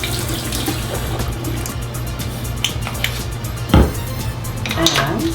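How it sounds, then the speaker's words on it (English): Makeup brushes rinsed under a hot running tap, a steady loud rush of water with occasional splashes and light knocks against the sink. "I'm going to rinse them. Little water, hot water on them."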